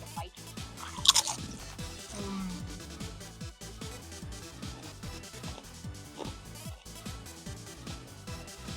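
Someone bites and chews a tortilla chip, producing quiet, irregular crunches and crackles up close amid low background noise and murmured talk.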